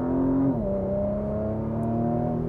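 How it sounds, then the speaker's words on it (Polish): Porsche Macan GTS engine revving high toward 7000 rpm, a loud steady drone that holds its pitch with a brief drop as the gearbox shifts, heard from inside the car with no talk. "Cudowne jest to w tym silniku, że on idzie do 7000 obrotów i cały czas mu się chce."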